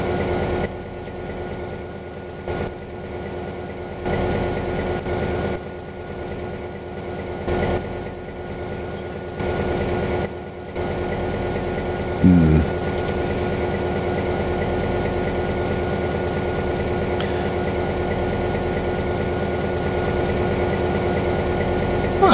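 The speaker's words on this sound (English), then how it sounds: "Is that a passenger train?" A passenger train in the railway simulator game Trainz 22 rumbles steadily with a deep idling engine drone, loud and continuous throughout with a few brief dips and a short clunk partway through.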